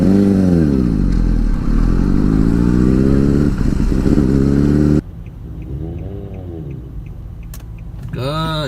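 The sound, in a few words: beginner riding a motorcycle, engine and acceleration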